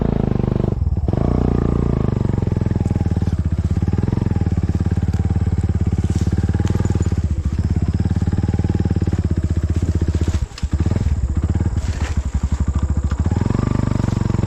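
A motorcycle rides along with a loud, continuous engine drone, with occasional clatter and bumps from the road and one brief dip partway through.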